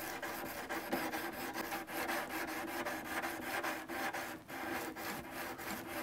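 Sandpaper rubbing back and forth across the top of a guitar fret, a steady close raspy scrubbing in quick repeated strokes with no talking.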